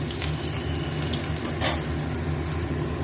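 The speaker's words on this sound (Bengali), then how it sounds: "আলুটা একটু ভাজা ভাজা করে নিই" Potatoes fry in a pan on a home kitchen stove, a steady close hiss and crackle of oil running continuously and evenly throughout, with no voices over it.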